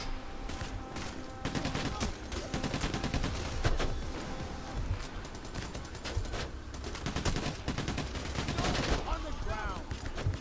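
Enemies fire at the player in the video game PayDay, on the Green Bridge heist: dense, continuous bursts of gunfire and rapid volleys fill the whole stretch at steady loudness, with some faint voices mixed in.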